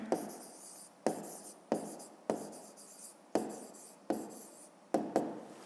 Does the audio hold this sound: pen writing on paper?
yes